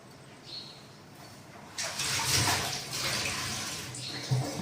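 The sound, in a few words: water poured onto rice in a tumbler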